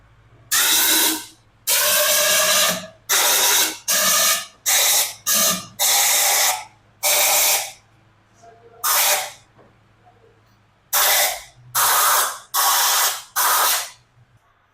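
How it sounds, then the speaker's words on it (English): Repeated loud bursts of pressurized air hissing from an air gun while spraying engine cleaner on a Kawasaki Versys 650 motorcycle, short blasts in irregular rhythm separated by brief pauses, close up. "then he starts spraying it, and then with the air gun"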